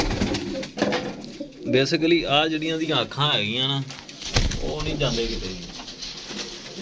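Desi pigeons coo on a rooftop loft, throaty warbling calls repeating close by while someone talks over much of it.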